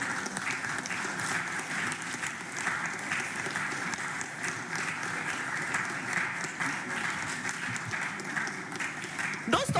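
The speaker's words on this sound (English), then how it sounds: "please, we need all the applause. We need all the cheering, okay?" An audience at an inter-school public speaking competition applauds and cheers in a dense, constant roar of clapping, loud and sustained with no pause.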